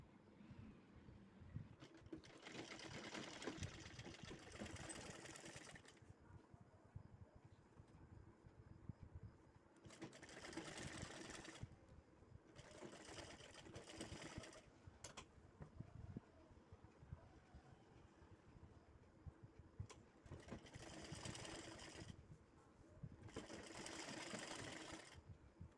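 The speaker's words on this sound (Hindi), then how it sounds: "तो अब हम इसके ऊपर सिलाई दे देंगे।" A sewing machine stitches along a blouse neckline, running in several steady bursts of fast mechanical whirring separated by short pauses, close and moderately loud with no talking.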